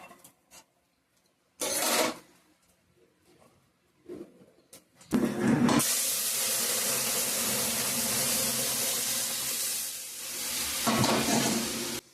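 Dried red chillies, bay leaf, cumin seeds and crushed ginger hit hot oil with a sudden loud hiss, then keep up a steady, close sizzle after a few brief clinks.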